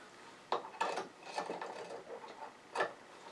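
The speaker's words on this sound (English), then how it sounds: "we're just simply going to thread a nut on here so when the two come together, they'll be tight" A nut is threaded and tightened onto a homemade woodturning reversing bar, making quiet metallic clicks and short scraping ratchet-like turns in a few separate bursts.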